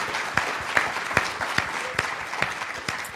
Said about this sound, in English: give me a round of applause for all these fantastic young scholars